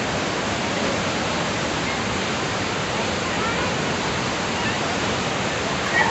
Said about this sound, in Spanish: para que puedan observar lo bonito de esta cascada y sobre todo lo bonito que se escucha